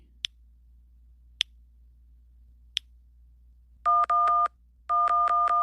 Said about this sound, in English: There's his phone number, 512-4253. So we can just call him.